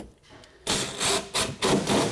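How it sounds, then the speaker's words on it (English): Drywall being screwed back onto a wall during a DIY kitchen renovation, heard as a few short bursts of driver whir and scraping against the board, loud and close, with brief pauses between. "We're going to screw our drywall back."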